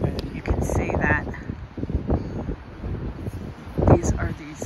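Strong wind at the Cliffs of Moher in Ireland buffets the microphone in gusty low rumbles, with a person talking over it most of the time.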